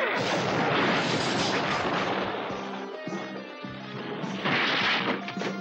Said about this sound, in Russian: Стреляй туда!